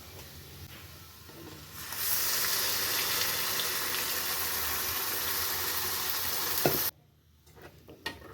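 Water is poured into a sizzling pan of chickpea vegetable curry, a loud steady hiss and splash lasting several seconds before stopping abruptly, with faint kitchen clatter afterward.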